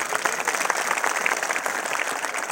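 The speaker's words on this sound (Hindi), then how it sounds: "हाथ उठा के जरा जोरदार ताली बजाओ अपनी।" An audience at a Birsa Munda Jayanti speech gathering claps loudly and steadily, a dense crackling wall of applause from many hands that holds at full strength throughout.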